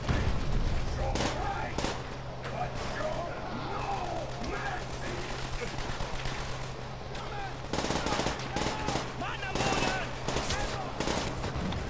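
Automatic gunfire and heavy firefight bursts in Call of Duty: World at War, rattling steadily for several seconds, pausing briefly, then resuming in loud dense volleys with a voice shouting over the battle.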